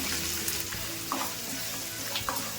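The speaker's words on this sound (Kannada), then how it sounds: "ಈರುಳ್ಳಿನ ಸ್ವಲ್ಪ ಎಣ್ಣೆಲೆ ಫ್ರೈ ಮಾಡ್ಕೊಂಡ್ಬಿಡೋಣ" Chopped onions with curry leaves and green chillies frying in oil in a pan, a continuous close sizzle with a few soft spoon knocks and stirring scrapes scattered through it.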